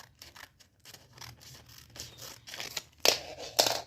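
Scissors snipping through paper while making a Minecraft figure, a run of soft close cuts building to two louder, sharper snips near the end, with no talking.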